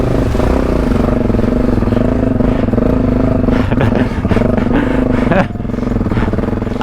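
A motorcycle rides through muddy ruts on a French off-road trail, its engine droning steadily close by as tyres and chassis clatter over the ground, with a few sharp knocks near the end.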